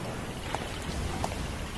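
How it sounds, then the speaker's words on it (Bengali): Cartoon rain and wind effect: a steady, fairly quiet wash of rainfall with a few soft drop-like ticks, continuous and alone with no voices. "কিন্তু সঙ্গে সঙ্গে বাতাস আর বৃষ্টির দাপটও যেন হয়ে গেল দ্বিগুণ।"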